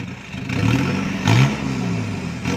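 An Isuzu D-Max pickup truck engine idling nearby with a few short, throaty revs rising and dropping back, about three blips in under three seconds.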